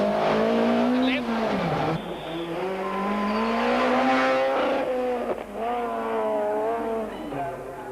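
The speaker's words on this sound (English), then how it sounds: "Next into the stage are the Class B 16-valve Golfs." Class B 16-valve Volkswagen Golf rally cars tackle a gravel stage, engines revving hard and rising and falling in pitch through gear changes as the cars pass close by, loud and continuous.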